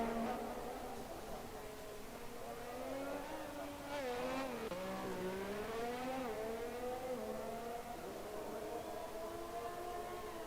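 Race cars circling a track in a racing video game at Azerbaijan, engines whining steadily with pitch sweeping up and down as cars pass on out laps, a continuous loud drone throughout.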